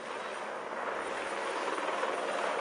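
A helicopter flying over a Tour de France stage race, a dense steady rotor and engine roar with broad rushing noise, fairly close and constant throughout, with no talking.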